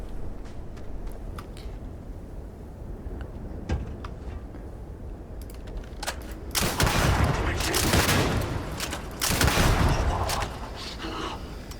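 Gunfire from a very explosive weapon in the Starfield video game: scattered shots over a low rumble, building into heavy, loud, sustained blasts in the second half.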